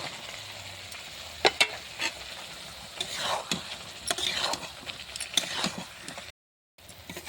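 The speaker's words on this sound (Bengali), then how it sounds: "আলু আর বেগুনটা দিয়ে আরও একটু পাঁচ মিনিটখানে কষে নেব" Potato and eggplant are stirred into a pan of cooked-down tomato and chopped coriander, giving a steady sizzle broken by repeated scraping spoon strokes, close and fairly loud, with a brief silent gap near the end.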